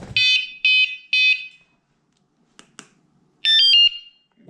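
A piercing electronic anti-theft alarm blares in three short loud bursts, pauses with faint clicks and handling noise, then shrieks again in another sharp burst.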